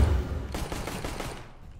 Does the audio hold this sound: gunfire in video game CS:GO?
yes